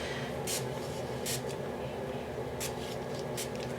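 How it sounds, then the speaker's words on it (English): Several short hissing bursts of a spray bottle misting water onto a paper page, four spaced puffs over a low steady background hum. "I'm going to spray right over the page so the water falls onto the page"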